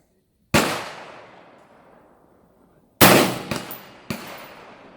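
An M16A4 rifle fires outdoors: one loud, sharp report with a long decaying echo, then after a pause two more shots close together and a third, each ringing out alone.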